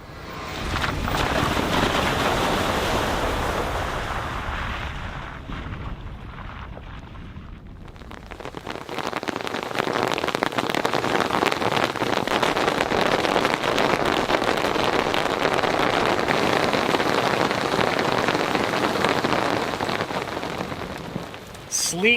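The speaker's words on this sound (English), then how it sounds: "Sleet is collecting on the awning." Heavy sleet pelts a vehicle awning in the Colorado mountains near Crested Butte, a steady dense patter with a brief lull before the downpour builds again and stays loud to the end.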